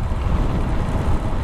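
Heavy wind roars across the mic of a motorcycle carrying a delivery rider through gusty conditions, a constant dense low-frequency rush without speech.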